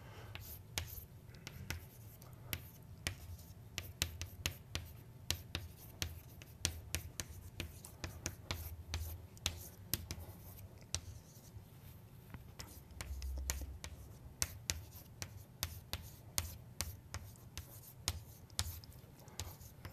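Chalk or pen taps and scratches while math equations are written out, a quick irregular run of small clicks and strokes over a quiet room hum.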